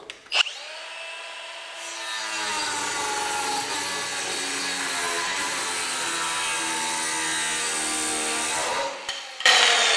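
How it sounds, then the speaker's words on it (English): A wood cutting blade slices through 3/4 inch thick Baltic birch plywood with a loud, sustained high-pitched whine for about nine seconds, spinning up at the start and winding down at the end, close and alone. "So I'm going to cut this piece of 3/4 inch thick Baltic birch plywood."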